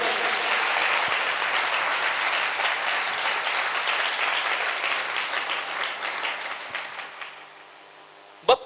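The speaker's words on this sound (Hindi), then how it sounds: "स्वयं मां जी के साथ मिलकर तालियां बजाएंगे।" A church congregation claps together during a water baptism service, steady dense applause that holds for several seconds, then thins and fades out toward the end.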